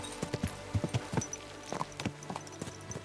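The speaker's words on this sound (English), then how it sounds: "I guess I might as well just go ahead and manually control the horse till this point." A horse's hooves clip-clop steadily at a walk while being ridden in Kingdom Come: Deliverance II, a medieval-setting video game, each hoof strike distinct and close, in an uneven rhythm over a soft background, without talking.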